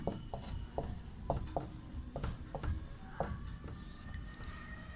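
Pen or chalk writing out an answer during a Class VIII Sanskrit lesson, a series of short scratchy strokes in an uneven rhythm, close and quiet.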